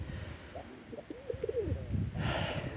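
Pigeons coo softly nearby in a short, warbling series of low, rolling calls, followed by a burst of rustling noise.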